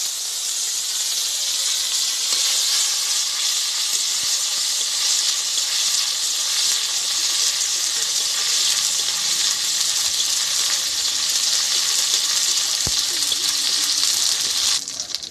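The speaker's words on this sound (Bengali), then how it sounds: "এবারে আমি ফোড়ন দিয়ে দেবো, তার জন্য দিয়ে দিলাম গোটা জিরে, আদা কাঁচা লঙ্কা আমি আগেই বেটে রেখেছিলাম, সেটা দিয়ে দিলাম।" Whole cumin seeds with ginger and green chili paste sizzle loudly in hot oil, a continuous bright frying hiss that holds steady throughout before cutting off abruptly near the end.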